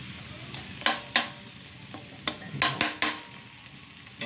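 Crushed ginger and onion sizzle in a hot pan, with a steady fry hiss broken by several sharp clinks of a utensil stirring and scraping against the pan.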